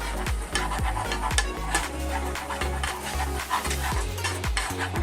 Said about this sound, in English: The flour sizzles in there.